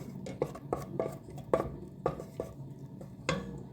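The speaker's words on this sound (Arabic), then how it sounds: "وهنزل بمعلقه هرمي دقيق وهقلبها كده لغايه ما الدقيق" A spoon stirring flour into melted butter in a pan: quiet, rhythmic scrapes and light metallic taps roughly every half second, close-up, with no voices.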